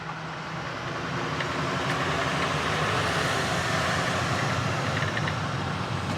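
A truck with a GM Allison 10-speed transmission rolls along, giving a constant broad road and drivetrain rumble heard from inside the cab. No distinct gear changes stand out.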